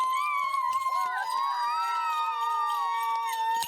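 A cartoon dog rushing onto a ski track gives a long, wavering howl with several sustained tones that rise and fall, fairly close and clear, with light background clatter and no talk.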